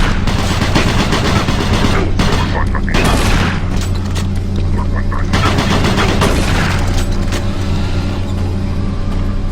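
Rapid bursts of weapon fire from Doom 3 BFG Edition, loud and close, with repeated shots and booming impacts layered over a droning game background.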